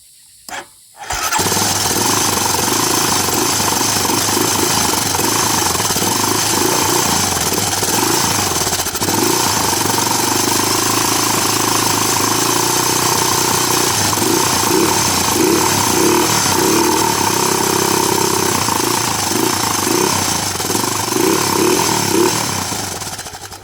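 A 2008 Honda Recon ATV, abandoned for over fifteen years, catches after a brief crank and settles into a loud, close, continuous rapid-thudding single-cylinder idle that runs steadily to the end.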